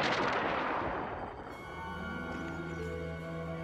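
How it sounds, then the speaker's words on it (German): A booming explosion in the Star Wars: The Old Republic video game on the planet Taris, a single loud blast that decays into a lingering rumble and ringing tones. "Eine Explosion."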